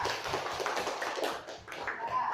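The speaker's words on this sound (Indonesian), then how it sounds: "Kasih aplaus dulu kelompok 3." A classroom group gives a round of applause, a short burst of quick, fairly faint hand claps with some voices mixed in.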